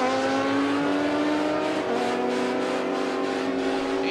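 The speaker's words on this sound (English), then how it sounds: "The drivers in, wheels up and down there for the Dan Reitz machine" A drag racing car at an import-versus-domestic all-motor meet roars at full throttle, a loud, steady, high-pitched engine note holding for several seconds without a break.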